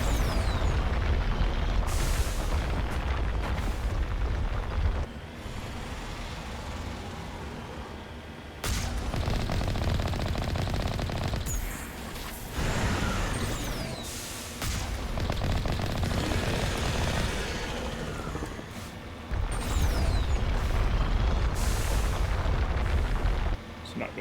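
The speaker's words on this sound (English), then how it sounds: "I don't remember the Thresher while shooting quite that fast" A Thresher Maw firing in Mass Effect Legendary: long, loud roaring blasts and rumbling eruptions that come in heavy sustained waves, broken by short quieter gaps.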